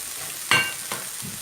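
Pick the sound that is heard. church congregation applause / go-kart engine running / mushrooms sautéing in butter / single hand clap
mushrooms sautéing in butter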